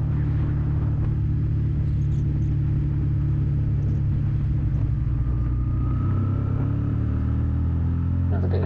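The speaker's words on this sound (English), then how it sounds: "Another bit of traffic." Road traffic on Tenerife passes with a low, continuous engine rumble that swells gently toward the end, heard from a motorcycle with its own steady drone underneath.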